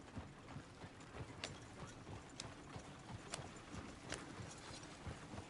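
Horse hooves clip-clop steadily across ground in Red Dead Redemption 2, a brisk, even rhythm of sharp knocks over a low outdoor bed of game ambience, with no speech.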